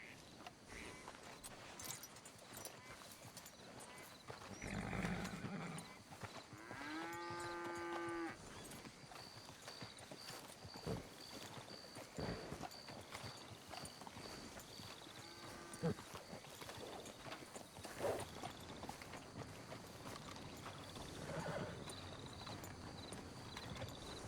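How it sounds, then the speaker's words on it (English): A horse walks in a video game, its hooves clip-clopping in a steady soft rhythm, with a few brief animal-like calls and faint ambient noise underneath. "But in the meantime, we're just going to walk the horse."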